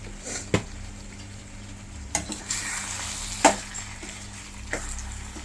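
Tomato meal maker curry stirred in a pan, a soft continuous sizzle punctuated by a few sharp spoon scrapes and clacks against the pan at irregular intervals.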